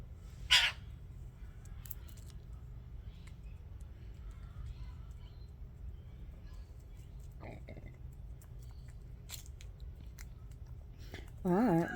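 White-winged choughs calling outdoors, a few short harsh calls scattered over a quiet background, with one louder burst near the start and a stronger, more tonal call at the end; soft human voice sounds appear faintly.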